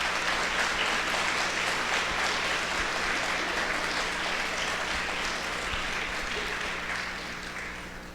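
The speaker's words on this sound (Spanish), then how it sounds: "Les recibimos con un fuerte aplauso a nuestros hermanos catecúmenos." A church congregation applauds steadily for several seconds, a dense wash of clapping that slowly fades toward the end.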